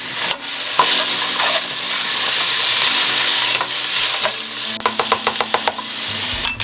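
Garlic goes into onions frying in olive oil in a pan, a loud steady sizzle broken by scraping stirs and a quick run of clacking utensil taps toward the end.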